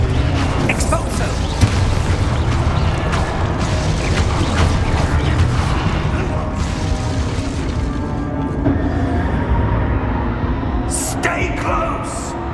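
Spell blasts and explosions from the Expulso spell in Hogwarts Legacy, a dense, echoing barrage of booms and crashes with speech mixed in, ending in a couple of sharp bursts.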